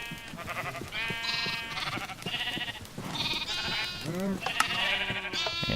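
Sheep in Minecraft bleat repeatedly in wavering calls, several animals overlapping at close range, with game noises in the background.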